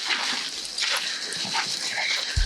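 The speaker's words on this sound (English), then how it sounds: "About to go take the dogs for a walk." Dogs about to be taken for a walk at an Australian campsite whimper and yip excitedly in short, close bursts, fairly loud with little else around.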